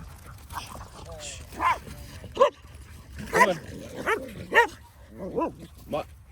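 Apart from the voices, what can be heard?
dogs barking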